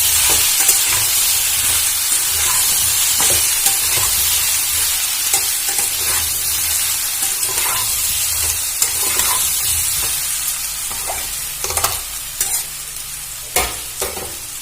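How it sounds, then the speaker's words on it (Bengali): Yam and potato stirred and fried in a pan for a Bengali vegetarian ol dalna, a steady close sizzle with repeated scraping strokes of the spoon, no talking. "এটা এবারে ভালো করে নাড়াচাড়া করে ভেজে নেব।"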